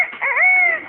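A parrot voices a short, rising-and-falling crow in imitation of a rooster, a single clear call lasting about a second.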